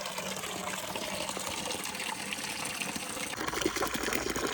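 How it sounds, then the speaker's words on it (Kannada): Water runs from a tap into a bucket, a continuous close gushing splash that grows slightly fuller and louder toward the end. "ನೀರು ತುಂಬಿತು"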